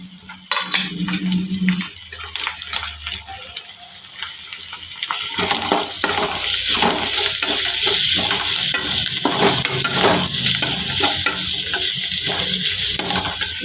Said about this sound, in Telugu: ఫ్లేమ్ కొంచెం పెంచుకొని ఇప్పుడు వచ్చేసి మామిడికాయ తురుము.